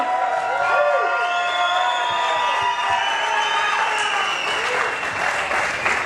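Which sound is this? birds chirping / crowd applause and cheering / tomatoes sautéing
crowd applause and cheering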